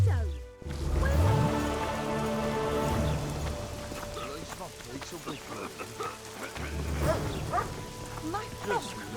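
Steady rain patters on a surface throughout, with scattered droplet hits over a low background hum and some faint game sounds, from The Witcher 2.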